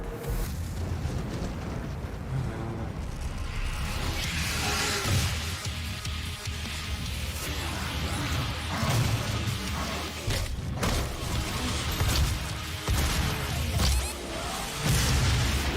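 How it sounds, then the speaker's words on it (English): Explosions and booming blasts in a shooter video game, a dense, continuous rumbling roar with repeated crashing bursts scattered throughout, loud and busy. "Oh, that's what the explosions were."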